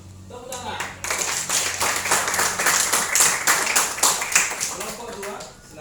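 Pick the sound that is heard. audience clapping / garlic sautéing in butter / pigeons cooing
audience clapping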